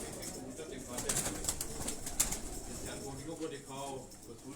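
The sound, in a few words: pigeons cooing, high-flying pigeons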